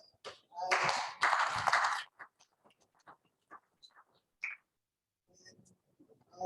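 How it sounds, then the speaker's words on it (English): A short, dense burst of applause from a crowd, then fading to a few scattered claps and light taps. "give another round of applause to ourselves."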